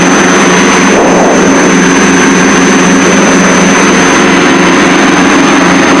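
Twin engines of a Piper Seneca airplane roar steadily during the climb after takeoff, a loud, continuous drone with a high whine heard from inside the cabin.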